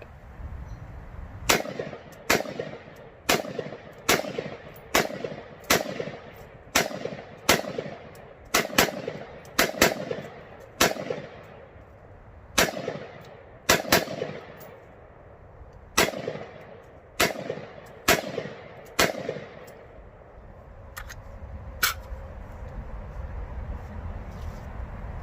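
Rifle shots from an AR-pattern rifle with a Stoner upper, fired outdoors in an irregular string of about twenty sharp, loud reports with brief pauses between them, then quiet background for the last few seconds.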